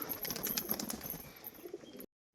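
Pigeon wings flap in a quick, close flurry of soft fluttering beats for about two seconds before the sound cuts off abruptly.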